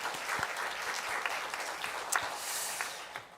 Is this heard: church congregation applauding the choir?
yes